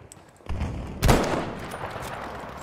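Kar 98 bolt-action rifle fire in Battlefield 5: a close, heavy crack, then a louder booming shot with a lingering tail over steady battlefield ambience, no talk.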